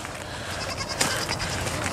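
Goats on a farm with 22 goats bleat during morning chores, a short burst of calls over a dense, noisy outdoor background.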